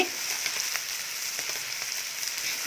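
Steady hissing sizzle of food frying in a pan, with occasional small pops and crackles, close and continuous.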